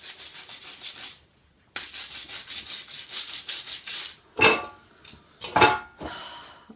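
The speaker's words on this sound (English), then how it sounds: "Gently, first of all, scraping off the big lumps, trying not to damage it, and then with the wire brush," A wire brush scrubs a vintage caravan's awning rail in rapid, rhythmic rasping strokes, a steady run of scratches, a short pause, another long run, then a few louder scraping bursts, close and alone without talk.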